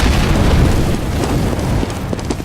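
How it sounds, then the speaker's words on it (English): An incendiary grenade lands in Counter-Strike and bursts into a loud, close, roaring rush of flame that fills the whole moment with dense rumbling noise, followed by a few crackling pops near the end. "Incendiary out."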